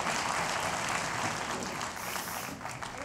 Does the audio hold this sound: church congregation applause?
yes